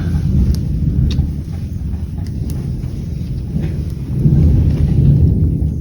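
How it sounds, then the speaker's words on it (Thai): Low, steady rumble of thunder outdoors during a storm, a continuous deep roll that swells louder near the end, with light rain patter mixed in and no voices. "โหฟ้าร้อง"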